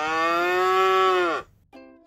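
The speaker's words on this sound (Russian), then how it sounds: "Это корова." A cow gives one long, loud, drawn-out moo that cuts off sharply, followed after a short pause by a briefer second call.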